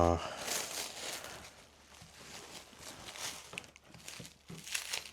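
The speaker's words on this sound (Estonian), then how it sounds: "Võtame ta siit kilest välja." Plastic film crinkles and rustles as a cured pork belly for hot-smoked bacon is unwrapped, a close, irregular crackling that comes and goes over several seconds.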